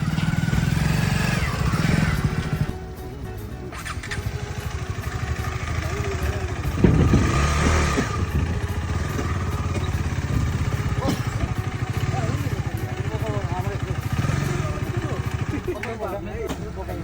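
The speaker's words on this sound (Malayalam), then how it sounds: "നമ്മളങ്ങനെ നമ്മളുടെ ബൈക്ക് തോണിയിലേക്ക് കയറ്റാൻ പോകാട്ടോ." A motorcycle's engine runs steadily up close while it is loaded onto a wooden boat for a river crossing, with clattering handling noises throughout and people talking over it.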